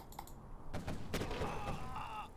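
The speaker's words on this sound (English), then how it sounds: "And the quad cannons cleaning up the rest." Quad cannon vehicles fire in Command & Conquer Generals, giving muffled bursts of rapid gunfire and dull thuds within a busy mix of battle sounds.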